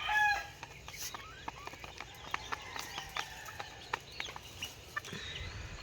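A hen gives short, faint clucks and calls in a quiet rural yard after laying an egg, scattered soft notes with brief pauses between them.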